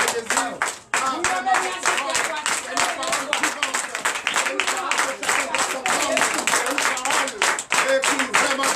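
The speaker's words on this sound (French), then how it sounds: "Est-ce qu'il n'est pas bien de se lever et applaudir notre Seigneur Jésus?" A church congregation at a Sunday service claps for Jesus, loud rhythmic hand claps in a steady repeated beat that continue throughout, with voices singing or calling over them.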